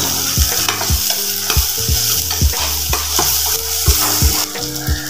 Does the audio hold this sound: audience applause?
no